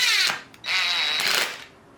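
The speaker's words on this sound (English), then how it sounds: "don't drill directly into your legs" Cordless power drill driving screws into a wooden board game table, two loud high whirring bursts separated by a brief pause, the second long and steady before winding down, close up with no talk.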